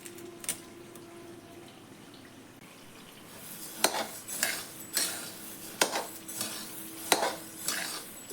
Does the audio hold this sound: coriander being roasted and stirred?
yes